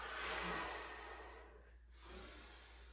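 A long, breathy exhale during a Pilates mat exercise, a broad airy hiss lasting about a second and a half, then a brief pause and a softer breath trailing after.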